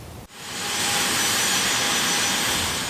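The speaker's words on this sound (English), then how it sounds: "And it's this jet taxiing at the Jubilee Lounge at the Kotoka International Airport" A jet taxiing at the Jubilee Lounge of Kotoka International Airport in Accra swells from a brief lull into a loud, steady, close engine roar with a high whine, and no voices.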